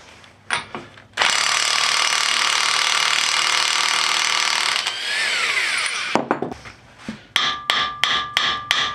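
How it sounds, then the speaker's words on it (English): Electric impact gun spinning off a 1 1/4 inch nut on a 2008 Ford Fusion, one long loud sustained whir of several seconds followed by a quick series of sharp hammering bursts near the end. "I'm going to use my electric impact gun."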